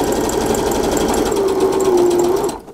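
A sewing machine stitches a flip sack pocket for a handmade journal, running in one steady, loud, continuous whir for over two seconds and then stopping abruptly.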